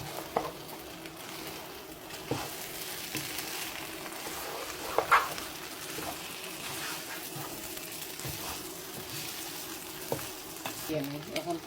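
Chicken and biryani rice fry in a pot with a steady, moderate sizzle and occasional stirring scrapes, close by, with no talking over it.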